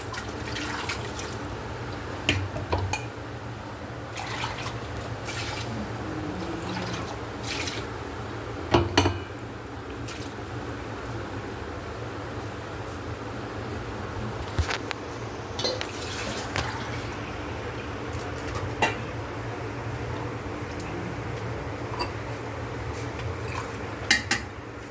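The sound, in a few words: water poured into pot from rinsed mixer jar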